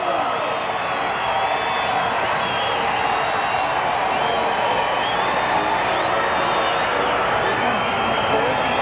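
Stadium crowd at a 1992 CFL game between Calgary and Saskatchewan roaring steadily for a Roughriders touchdown, a dense, sustained wall of cheering from a large crowd.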